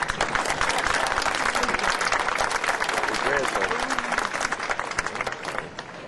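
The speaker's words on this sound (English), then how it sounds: "Yeah, you can clap for that." An audience at a high school graduation ceremony breaks into sustained, dense applause from a large crowd, loud and continuous before tapering off.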